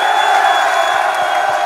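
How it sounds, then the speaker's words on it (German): A crowd at a darts event in Cologne cheers and whoops loudly in a dense, sustained roar, with scattered claps and shouts mixed in close by. "Und wir brauchen jetzt nochmal den lautesten Applaus,"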